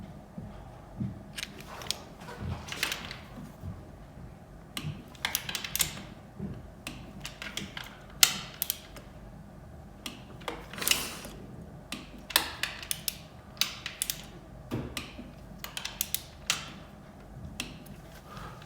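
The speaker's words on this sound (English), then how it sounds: "So that is a click style torque wrench." A click-style torque wrench tightens cylinder bolts on a KTM/Husqvarna/GasGas 300 cylinder kit, giving repeated sharp mechanical clicks and ratcheting ticks in an irregular rhythm, close and moderately loud, with no talking.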